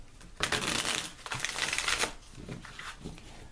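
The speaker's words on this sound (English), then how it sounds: "going to shuffle the cards" A tarot deck riffles and shuffles in a quick papery flutter, close up, followed by softer slapping and squaring of the deck.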